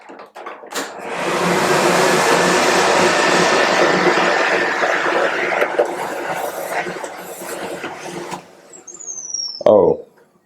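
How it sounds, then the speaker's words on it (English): An Italian-made blow dryer runs steadily in a Paris hotel room, a loud, even whoosh for about seven seconds before cutting off, followed by a brief squeak and clatter. "it's a blow dryer made in Italy"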